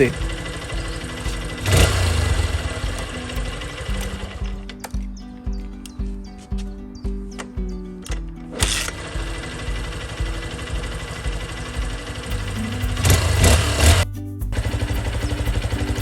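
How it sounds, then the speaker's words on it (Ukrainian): A Honda XR 150 L motorcycle engine idles close by with a low, throbbing exhaust burble, steady and rhythmic, punctuated by a couple of louder blips. "Вихлоп тут приємно булькоче."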